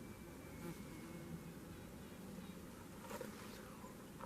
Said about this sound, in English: got this stupid bald-faced hornet that keeps buzzing my head